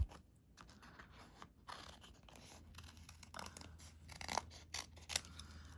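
Quiet, scattered scissor cuts through glossy sticker paper and light paper rustling close up, with soft snipping bursts spread unevenly through a hushed background.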